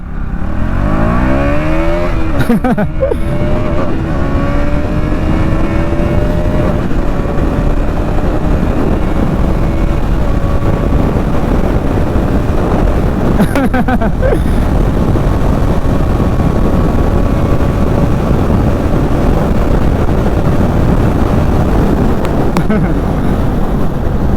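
A KTM Duke 200 motorcycle pulls away in first gear, its engine note rising steadily under loud wind rumble on the microphone, with short gear-change breaks as the revs climb.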